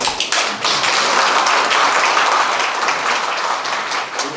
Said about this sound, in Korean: 일어나서 한번 정말 박수 한번 쳐주십시오